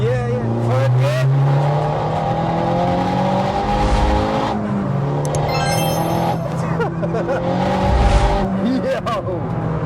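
A 387hp turbocharged front-wheel-drive Corsa accelerates hard in third gear, its engine note climbing steadily in pitch from inside the cabin, with brief higher whines and shifts partway through.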